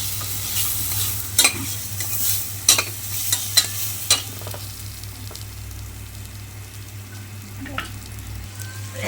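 Chicken biryani with biryani masala being stirred and fried in a pan: steady sizzling under a low hum, with scraping spoon strokes and clanks at irregular intervals, close and fairly loud.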